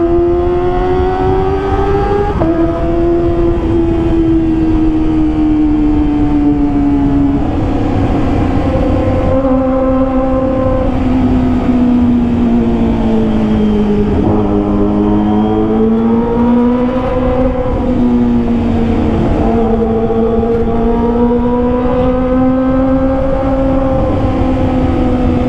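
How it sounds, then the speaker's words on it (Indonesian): A Kawasaki ZX25R motorcycle revs hard and continuously through a loud aftermarket exhaust, its pitch climbing and dipping in sustained high-rpm sweeps, close and dominant. "Suaranya lumayan menggelegar ya ini knalpot."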